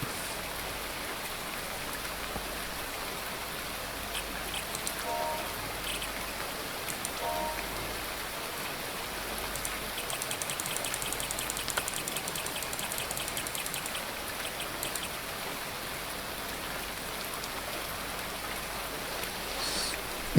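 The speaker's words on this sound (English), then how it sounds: "I can't tolerate a toilet flushing my ears fucking endlessly" Steady rushing water from a toilet that keeps flushing without stopping in a zombie video game, a constant even hiss of running water with no talking.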